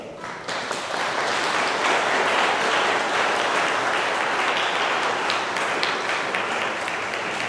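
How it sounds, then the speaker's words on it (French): A church congregation applauding during a baptism service, a full, steady roar of many hands clapping that swells in quickly and holds at a constant level, with no talk over it. "Une bonne main d'applaudissements."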